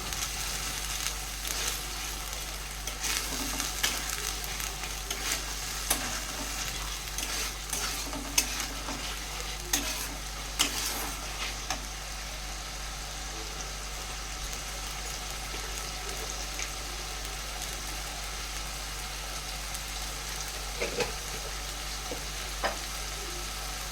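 Chicken coated in chili powder and spices is stir-fried in a pan, giving a continuous close sizzle with scattered clicks and scrapes of stirring throughout and no talking.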